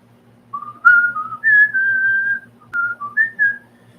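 A person whistles "Happy Birthday" in clear, pure, sliding notes, a short run of tuneful phrases close by over a faint low electronic hum.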